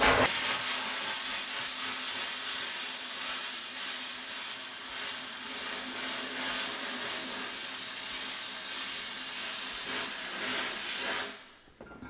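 An aluminum intake manifold is being polished with a continuous, even hiss for about eleven seconds that then cuts off abruptly near the end.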